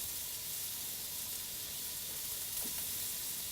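Steak sizzling and frying in a hot pan, a steady dense hiss with faint crackles running continuously and close throughout, no talking.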